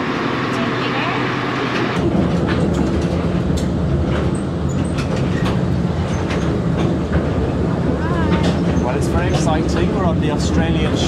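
Steady rumble and rattle of a sugarcane railway train in Australia rolling along, with voices talking over the continuous clatter.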